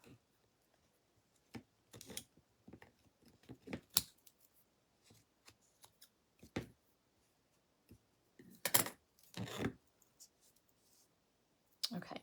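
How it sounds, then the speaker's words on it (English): Scissors trim the edges of fabric on a rustic craft tree made from wooden shims, giving scattered crisp snips and clicks with irregular gaps, close and fairly quiet. "So I'm basically just trimming up the edges off the tree, or off the fabric, so you can't see it from the front."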